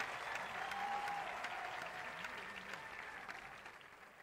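An audience at a sports games launch ceremony applauds with sustained, broad clapping that slowly fades toward the end, a faint tonal sound running beneath it.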